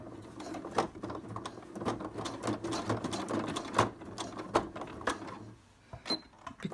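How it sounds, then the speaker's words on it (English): A sewing machine runs close by, stitching a Velcro flap in a steady mechanical chatter, then stops near the end, leaving a few clicks and light handling sounds. "I'm just going to stitch along the top to secure the top flap to the bottom piece of Velcro."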